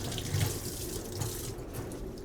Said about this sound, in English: First, we're gonna rinse the filter so it's clean for the first use.